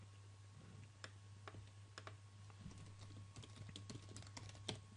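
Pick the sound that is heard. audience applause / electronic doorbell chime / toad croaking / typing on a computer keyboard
typing on a computer keyboard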